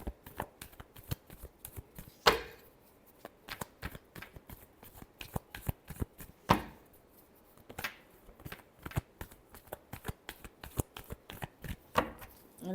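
Tarot deck being shuffled by hand, a long run of quick papery riffles and slaps in an irregular rhythm, close and fairly quiet, with a few sharper snaps as the cards are squared.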